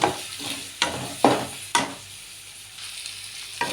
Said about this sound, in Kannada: ಇದು ಫ್ರೈ ಆಗಲಿ.